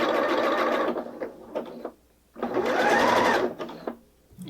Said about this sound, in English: I'm going to sew the sleeves now